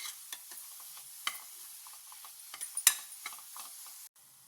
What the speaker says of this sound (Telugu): ఒకసారి అంతా బాగా ఫ్రై చేసుకుందాం అండి, పచ్చివాసన పోయేదాకా.